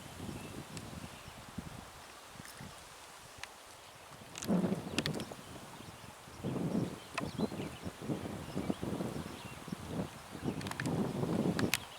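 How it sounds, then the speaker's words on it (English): Gusty westerly wind in the Temagami wilderness rumbles against the microphone in uneven bursts, swelling and fading, with rustling and faint knocks in between. "Getting a lot of gusts from the west though."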